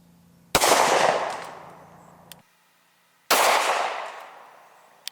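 Two loud, close gunshots from a .45 Smith & Wesson M&P Shield subcompact pistol, each a sharp crack with a ringing decay, separated by a short quiet gap, with a small click at the end.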